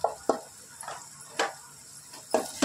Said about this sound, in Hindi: इसको अच्छे से भून लेंगे